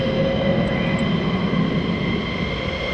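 A military jet takes off at RAF Lakenheath with a constant, broad, loud engine roar and steady tonal whine throughout, and no voices.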